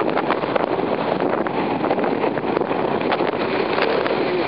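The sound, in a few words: wind blowing against the camera microphone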